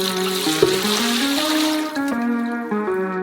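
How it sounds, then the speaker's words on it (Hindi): A steady stream of water fills a large saucepan with about three litres, its pitch rising gradually as the pot fills, heard alone for a few seconds. "एक बड़े सॉसपैन में 3 लीटर पानी।"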